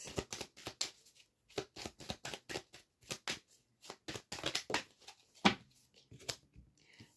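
Tarot cards being shuffled by hand in a series of crisp, riffling bursts separated by brief pauses, close and clear with no talking.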